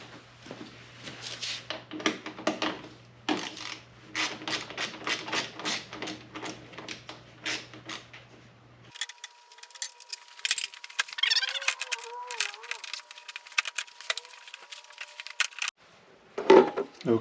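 Work on a John Deere 1025R tractor: a bolt is removed and a side panel taken off. Close metallic clicks, rattles and tool sounds come first, then scraping and clunks of panel handling, and a sharp clang near the end.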